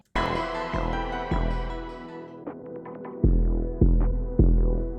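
A muffled hip-hop beat with an underwater filter effect, deep bass hits and tonal synth notes, sounding dull and submerged, playing alone without voices.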